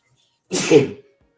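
One sharp, loud sneeze bursts out close by, lasting about half a second and followed by silence.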